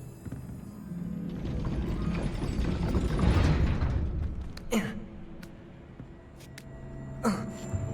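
A gate mechanism grinding and clattering as it raises in Hogwarts Legacy, a sustained mechanical rumble swelling then easing, followed by a few sharp metallic clanks near the end.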